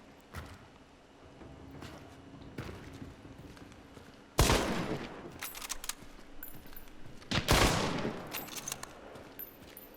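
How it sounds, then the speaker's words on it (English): Gunfire from the Hunt: Showdown video game: two loud, sharp blasts from a long-ammo gun ring out several seconds apart, each with a ringing tail, over faint footsteps and handling noise between them. "first time I've fired the overres in quite a while"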